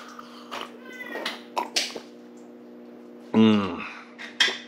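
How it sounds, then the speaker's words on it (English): A hungry house cat meows repeatedly in a quiet kitchen, several short close calls of varying pitch with one louder, drawn-out meow near the end, over a steady low hum. "apparently Shadow, our cat, is very hungry. He's meowing a lot."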